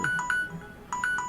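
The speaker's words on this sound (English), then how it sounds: "And that is my phone telling me I think that it's going to rain." A smartphone weather notification chimes in two quick bursts of bright electronic tones separated by a brief pause, playing clearly over faint background hiss.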